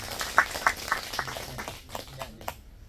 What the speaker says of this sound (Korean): 박수 한번 치십시오.